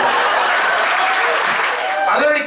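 A comedy club audience aboard a cruise ship claps steadily through the whole stretch, a dense, loud wash of applause with no voices breaking through.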